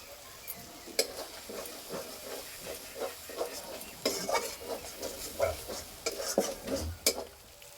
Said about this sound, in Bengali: মশলা কষানো হয়ে গেছে, এই যে মশলা থেকে তেল ছেড়ে গেছে।